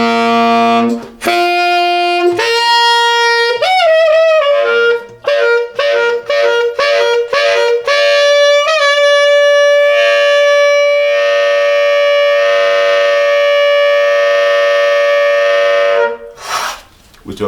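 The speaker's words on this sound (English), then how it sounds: "that's going to be an E on this horn" Horn player working up the overtone series toward a high E, a loud, close brass tone sliding through several pitches with quick breaks, then settling into a long sustained high note before cutting off.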